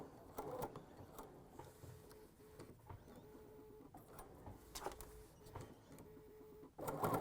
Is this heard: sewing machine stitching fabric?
yes